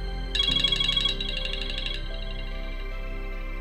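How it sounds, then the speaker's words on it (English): A phone ringtone chimes briefly, a bright electronic melody muffled as if heard through the vents of a Phone Soap UV sanitizer box, fading into a low steady hum. "The acoustic outlets ensure that you can hear every notification, call, or text."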